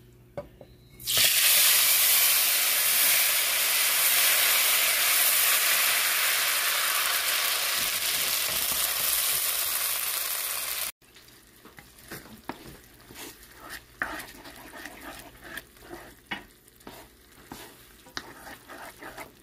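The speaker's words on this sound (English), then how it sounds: "we have our renderings from our bacon. So we're going to add the corn in now slowly." Corn poured into hot bacon renderings bursts into a loud, close, continuous sizzle that runs about ten seconds, then drops to quieter crackling with scattered stirring clicks and scrapes.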